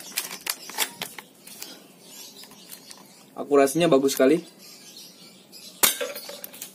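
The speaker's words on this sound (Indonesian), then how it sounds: "Kita tes tembak kaleng bawahnya, kaleng susu bear brand ya." Airsoft M4 rifle, fully upgraded to over 350 FPS, firing BBs that strike a Bear Brand milk can; sharp metallic clinks and impacts ring out in several bursts, mixed with people talking nearby.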